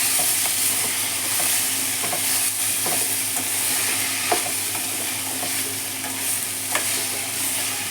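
Flat bean (goru chikkudu) coconut curry is stirred in a pan, a steady sizzle of frying under the scrape and clack of a spoon against the pan, with occasional sharper knocks, no voices.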